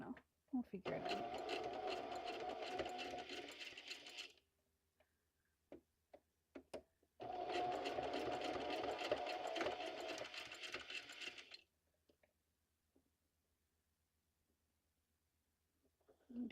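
Sewing machine stitching pages of a junk journal in two steady runs of several seconds each, separated by quiet gaps with scattered clicks and ticks of the mechanism, with speech in between.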